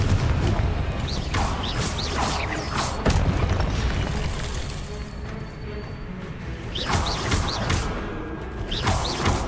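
Confringo explosion spell in the game Hogwarts Legacy, loud layered blasts and crackling bursts over a dense, continuous rumble, with sharp swooshing impacts near the start and again toward the end.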